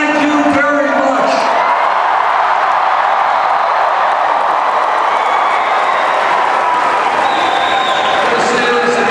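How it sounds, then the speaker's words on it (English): A large, raucous crowd at a political rally cheers, claps and whoops loudly and steadily throughout, a dense roar of many voices filling the space. "This is a large crowd, a raucous crowd."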